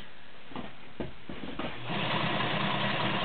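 A White Model 618 B sewing machine starts with a few soft clicks, then runs in a smooth, steady mechanical whir that holds to the end, close by and with no talking.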